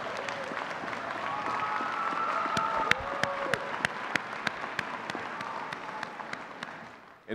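A large commencement audience applauds the faculty, a dense, even roar of clapping with a few sharper nearby claps standing out, fading at the end.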